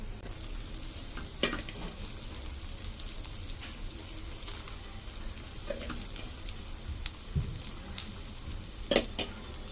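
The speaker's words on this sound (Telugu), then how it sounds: "ఇప్పుడు రైస్ వేసుకున్నాం కదా ఐ ఫ్లేమ్లో పెట్టుకుని టూ మినిట్స్ బాగా కలుపుకోవాలి" Cooked rice stir-fried on high flame in a pan for egg fried rice, a steady moderate sizzle with occasional scraping and clinks of the spatula being stirred, no talking.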